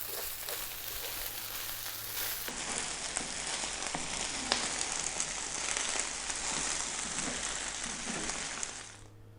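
Green vegetable rice sizzles steadily in a hot pan while it is stirred, giving a continuous crackling hiss with a few small scrapes, then trailing off at the end.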